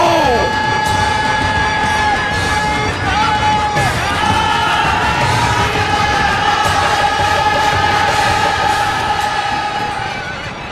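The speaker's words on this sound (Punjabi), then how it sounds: "ਜੈਕਾਰਿਆਂ ਦੀ ਗੂੰਜ ਨਾਲ ਧਰਤੀ ਹਿਲਾ ਦਿਓ ਤੇ ਅੱਗੇ ਵਧੋ।" A Sikh army shouts jaikara war cries while advancing in a Punjabi film, a loud massed roar of many voices sustained over a continuous tonal drone.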